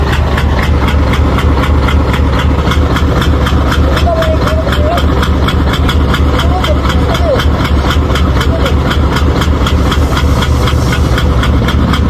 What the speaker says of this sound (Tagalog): Umandar siya pero palyado yung kahimtang at saka mausok mga bossing.